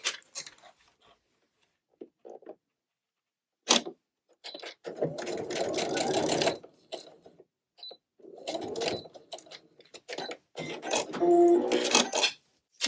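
Sewing machine stitching a lined zipper pouch, with short bursts of mechanical whirring separated by pauses and small clicks and handling noises, close and moderately quiet.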